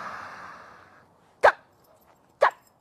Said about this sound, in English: There's the bark.